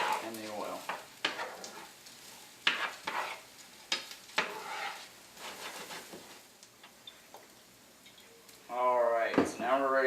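Risotto rice is stirred in hot oil for kale risotto, giving a light sizzle with a run of utensil scrapes and knocks against the pan, while a person talks over much of it.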